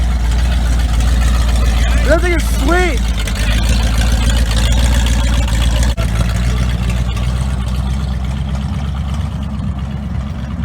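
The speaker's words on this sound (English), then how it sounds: "First muscle car of the year, Dodge Challenger or Charger." A Dodge Challenger or Charger muscle car rumbles at a steady idle at a car meet, its low engine drone loud and continuous while people talk nearby.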